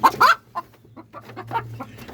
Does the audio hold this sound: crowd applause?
no